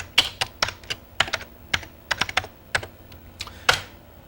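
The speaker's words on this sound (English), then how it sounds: "simply type in our text" Computer keyboard typing at a desk, a series of crisp, close key clicks in an uneven rhythm with brief gaps between small bursts.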